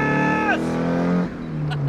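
A Nissan 180SX engine revving high and then dropping, its tone falling sharply before settling into a lower steady drone, heard from inside the car.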